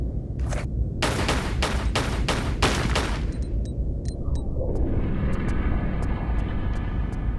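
Rapid gunshots ring out in a Tomb Raider custom level as vases around a room are shot, a burst of sharp cracks in quick succession followed by a lingering ambient hum with faint clinks.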